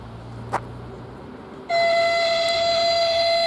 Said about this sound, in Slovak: Osobný vlak železničnej spoločnosti Slovensko zo smeru Nové Mesto nad Váhom